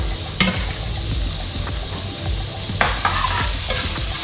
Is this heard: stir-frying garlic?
yes